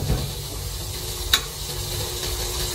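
Star margarine melting in a pan for sopas gives a soft, steady sizzling hiss close by, with a single small click partway through and no voices.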